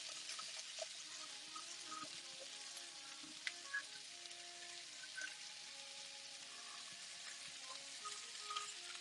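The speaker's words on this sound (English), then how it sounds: "Right now, I'm just getting those vegetables nice and seared." Chopped vegetables sear in a hot frying pan, a steady close sizzle with faint crackles and small pops running through the whole stretch, no voices over it.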